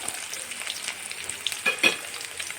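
Garlic cloves and small chopped ginger pieces fry in hot oil for tamarind rice, giving a steady soft sizzle with a few louder crackling pops near the end, no voices.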